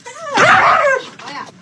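A dog whimpers and yips up close, a loud, high whining cry that rises and falls, followed by a shorter second whine.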